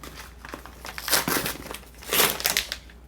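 Plastic packaging on an Elegoo Super Starter Kit for Uno is torn and crinkled up close, in two louder bursts of ripping with softer rustling between them.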